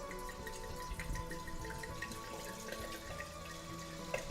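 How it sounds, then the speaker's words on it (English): Dry red Cabernet Sauvignon wine glugs and splashes steadily into a cooking pot, a continuous faint liquid pour with small drips. "we're going to pour in a whole bottle of a dry red"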